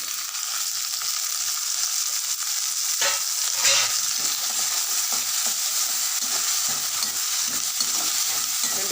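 Two tomatoes sautéing in a pan for sambar, a loud, close, continuous sizzle with a burst of scraping stirring near the middle.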